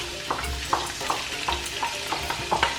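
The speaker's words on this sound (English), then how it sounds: "First, I'm going to start cooking my onion and the garlic." Onion and garlic frying in oil in a pan for a Ghanaian cabbage stew, a steady close sizzle with a spoon stirring and scraping in short regular strokes throughout.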